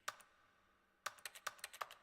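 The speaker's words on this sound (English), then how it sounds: "You can hear the type on my keyboard." A computer keyboard clicks close by during a game livestream, one quick tap followed after a pause by a rapid run of about eight crisp keystrokes, with no talking.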